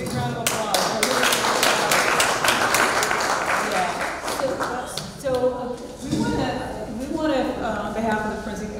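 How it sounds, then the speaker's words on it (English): Audience applause for a panel fills the room with dense clapping for several seconds, then thins out while a voice talks over it in the later part. "Let's give them a big round of applause."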